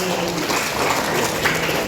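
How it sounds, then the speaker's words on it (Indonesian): At a seminar on protecting women and children, an audience applauds a guest, a dense, steady wash of many hands clapping at even loudness for the whole moment. "Tepuk tangan dong buat Bu Yuni"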